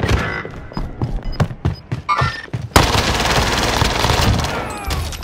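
Gunfire in a Call of Duty video game: a burst of separate, punchy shots gives way to a sustained, dense roar of rapid automatic fire and explosions, loud and close.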